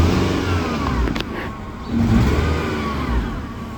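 A car engine with a misfire sputters and stutters as it is revved, its roar rising and dipping unevenly, close and steady with no talking.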